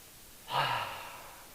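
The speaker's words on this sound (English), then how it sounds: "10 nostril and mouth breaths" One audible breath through the nose and mouth during a breathing exercise, a soft, fairly quiet rush of air lasting about a second, then fading into a quiet room.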